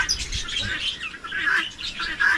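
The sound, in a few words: birds squawking in an outdoor aviary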